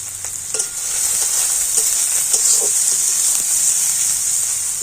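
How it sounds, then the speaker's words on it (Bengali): Chopped onion and green chillies frying in hot oil, a loud close sizzling hiss with scattered crackles and stirring clacks of a utensil against the pan. "তেলটা একটু ভালো করে গরম করে নিয়েছি আর তেলের মধ্যে আমি দিয়ে দেবো পেঁয়াজ"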